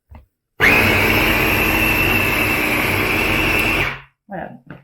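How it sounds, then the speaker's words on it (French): Babymoov food blender whirring loudly and steadily for about three and a half seconds as it purées three cooked foods together, with brief voices before and after the motor runs. "Là, on a un vrai mixage en fait des 3 aliments."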